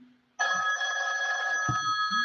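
A telephone bell rings steadily and loudly nearby, a sustained bright ring starting abruptly after a brief quiet moment with no talking.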